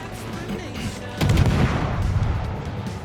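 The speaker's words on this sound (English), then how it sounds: "it's always worthwhile helping your division mates with the guns" Destroyer guns on the USS Somers fire in World of Warships, a sudden booming salvo that cuts in over steady engine and sea ambience, followed by a lingering rumble.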